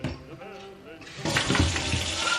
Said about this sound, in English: I fill them in under the sink.